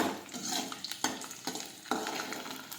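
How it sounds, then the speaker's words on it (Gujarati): Garlic sautés in a hot pan while a spoon stirs it. Sizzling crackles steadily under a few sharp scrapes and knocks of the utensil against the pan, all close and fairly quiet. "હવે સાતળી લઈશું."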